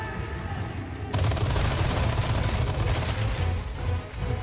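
Sustained gunfire in Resident Evil 4, a dense crackling barrage of rapid shots that bursts in loudly after a moment and rattles on without pause, with faint background game noise.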